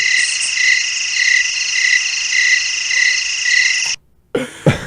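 A cricket sound effect plays on a sports radio show, a steady loud chirping trill that runs for about four seconds before cutting off abruptly into brief noise.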